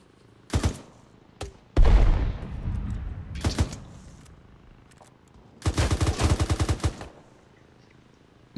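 Machine gun fire in the video game Arma 3 rings out in sharp, loud bursts: a short volley, a heavy blast, a few scattered shots, then a long rapid stream of rounds, with quiet gaps between the bursts.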